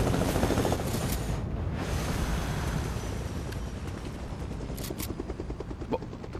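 A helicopter in a video game gives off a continuous low, rumbling engine drone with a fast chopping beat, steady and fairly loud, with faint crackles of gunfire near the end.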